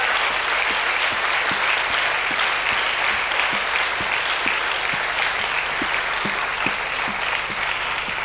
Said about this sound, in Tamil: frapper des mains pour le Seigneur.